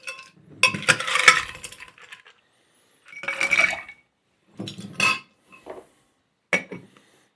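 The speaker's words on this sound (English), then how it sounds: "So we're going to add some ice. We're going to give it a shake." Ice rattles and clinks inside a cocktail shaker in several short bursts of shaking separated by pauses, fairly close and moderately loud.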